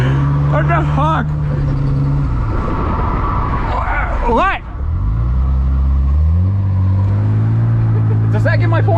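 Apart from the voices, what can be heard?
drifting car engine revving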